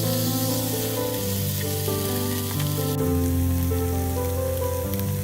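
Chopped tomato sizzling and frying with softened sautéed onions in a pan for a chickpea masala gravy, a steady hiss under prominent background music.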